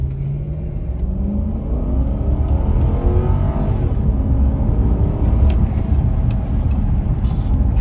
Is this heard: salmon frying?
no